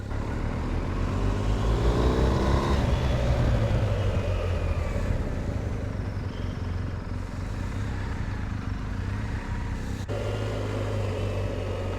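BMW R1250GS Adventure motorcycle pulling away, a loud steady engine drone that rises in pitch as it accelerates through gears, heard close from the rider's position with continuous wind rush.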